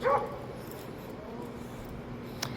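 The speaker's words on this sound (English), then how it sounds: "Your guard dog wouldn't be out here barking like that unless you're giving it commands to." An Akita guard dog lets out a single short bark or yip at the start, then a faint sound follows against outdoor background noise.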